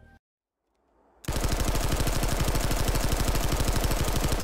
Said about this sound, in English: here are some examples of TR weapons